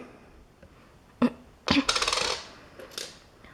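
A 1987 Ugandan two-shilling coin is handled: a few sharp metallic clicks and a short jingling ring, close and clear, with no talk.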